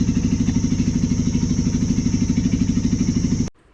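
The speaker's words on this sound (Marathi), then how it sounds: "तिथं जनरेटर ठेवलेले त्यामुळे त्याचाच आवाज जास्त येत होता" Generator running nearby outdoors, a loud steady droning engine with a fast rhythmic chug and a constant high whine, filling the clip before cutting off abruptly near the end.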